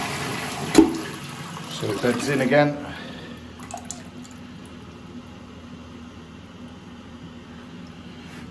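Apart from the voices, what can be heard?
toilet flushing with Siamp siphon, cistern refilling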